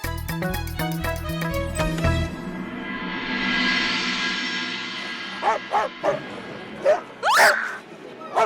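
Several yips and barks from a dog come near the end, over a loud stretch of dramatic music with pounding hits and a swelling wash, while people talk.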